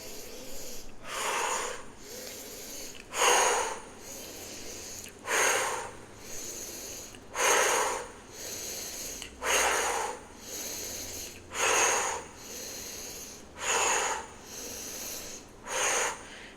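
Rhythmic breathing exercise with arms raised on each inhale, forceful breaths in a steady cycle of about eight strong bursts alternating with softer ones, close and alone with no talk.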